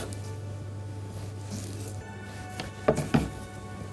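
A knife cuts through a rolled cheese pastry on a board, with a few soft squishy cuts followed by two sharper chopping strokes near the end over a low background hum.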